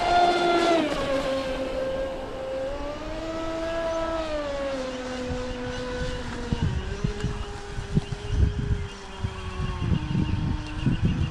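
A Proboat Supersonic Wake 48 RC boat fitted with a Boat Bitz CSS kit runs flat out, its electric drive giving a loud sustained whine that dips and shifts pitch through turns, with choppy water noise beneath.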